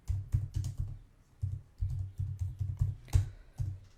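Computer keyboard typing in short irregular bursts of keystrokes, close and crisp with brief pauses between groups of taps.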